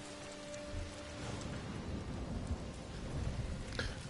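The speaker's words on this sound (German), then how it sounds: "Und na, es regnet!" Soft, steady rainfall in the video game Ghost of Tsushima patters throughout, with a low rumble of distant thunder underneath, all fairly quiet.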